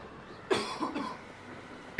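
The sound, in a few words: person coughing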